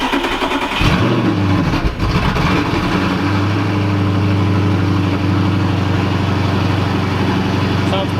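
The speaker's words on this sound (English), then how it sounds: "2009 Audi R8 straight piped" Loud, raw V8 idle from a straight-piped 2009 Audi R8, starting with a blip and settling into a steady, deep, rumbling burble close by inside an enclosed garage.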